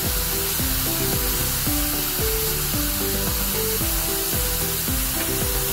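Dal frying in a pan for radish bhaji, a loud, continuous hissing sizzle heard close up with a faint musical backing underneath.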